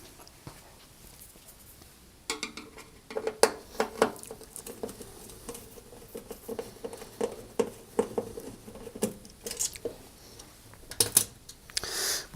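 Two screws being undone on the top of a Rangemaster cooker, heard as a series of small sharp metallic clicks and taps, close and fairly quiet, with short pauses between bursts.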